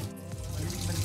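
Water pouring from the outflow of an aquarium sump tank into a chamber, a steady close rushing and splashing that runs continuously and grows slightly louder.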